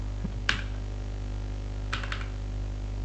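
A few brief key clicks on a computer keyboard while a command is typed: one tap near the start, then a short cluster of three or four quick clicks, faint against a steady low hum, with no talking.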